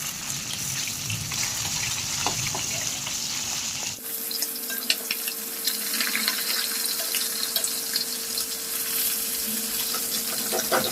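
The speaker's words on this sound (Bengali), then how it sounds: "মাছটাকে আরেকটু ভালো করে ভেজে নেব" Pomfret fish fry in hot oil with a steady, continuous sizzle throughout, close and fairly loud, shifting in tone partway through as the pan is disturbed.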